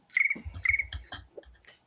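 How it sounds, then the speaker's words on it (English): Crickets chirp indoors in a room, several short bright trills in quick bursts, close and clear, with a few fainter chirps trailing off. "Crickets in Dan's room are screaming again"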